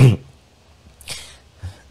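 A sharp, close cough bursts out at the start, followed by a couple of softer throat-clearing rasps, with quiet pauses in between.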